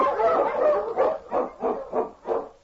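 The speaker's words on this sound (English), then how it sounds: "The Wonder Dog King, swiftest and strongest of Eskimo lead dogs, blazes the trail through storm and snow for Sergeant Preston" Eskimo sled dog barking in a snowy Yukon setting, a string of about five loud, evenly spaced barks after a longer opening yelp, fairly close and heard alone.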